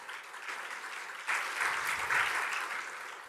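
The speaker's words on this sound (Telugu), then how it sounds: "చప్పట్లు కొట్టి దేవుని స్తుతిద్దాం." A church congregation claps together in steady, continuous applause that swells louder partway through, a dense roomful of hands with no speech.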